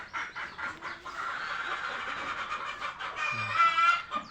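Red and white Fayoumi desi hens cluck softly in a flock, a faint continuous chatter of overlapping calls with a low rumble near the end.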